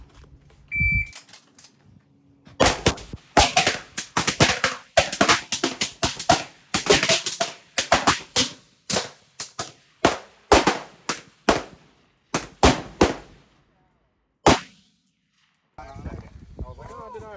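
A string of loud, sharp reports rings out at an outdoor shooting range as shooters fire from a low ready position, with many overlapping shots in quick bursts, several guns going at once, before a brief pause and a few last cracks.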